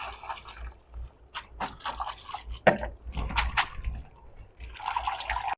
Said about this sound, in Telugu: ఈ కాడలన్నిటిని నీట్గా వాటర్ వేసేసుకొని ఇట్లా జల్లించుకున్నట్టుగా కడిగేసుకుందామండి